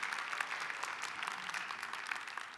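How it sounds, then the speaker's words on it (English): Quiet, continuous applause from a small group at a school career and technical education site visit, dense clapping with no talking. "give them a round of applause."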